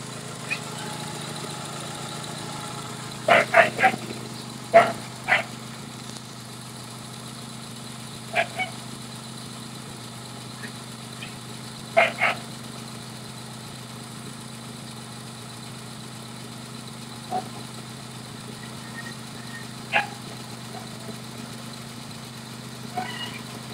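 A hot Honda Civic LXi engine idles in a steady low hum, with a few sharp clicks and knocks standing out above it now and then.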